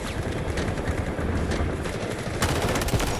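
Rapid automatic fire from an SG552 rifle in the shooter game Delta Force rattles on without a break, loud and close, with a sharper burst of shots near the end.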